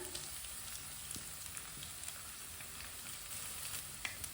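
Crushed ginger and garlic frying with lightly browned onions in a pan while making aloo tikki, a soft steady sizzle at low level with a few faint stirring clicks, no talk.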